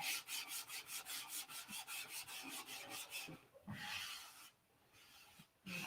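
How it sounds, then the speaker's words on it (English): Rhythmic rasping strokes of wet sanding on paint rub back and forth steadily, then give way to slower scraping and handling noises with brief pauses. "We'll get some water on it and"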